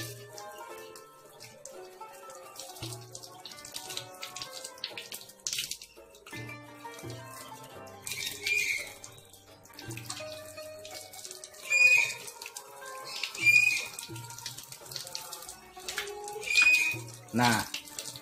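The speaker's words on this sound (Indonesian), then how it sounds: "Dan selanjutnya mencuci kaki sampai mata kaki." Water runs from a tap while feet are washed to the ankles during the Islamic ablution (wudhu), a faint, uneven splashing and trickling beneath other background sounds.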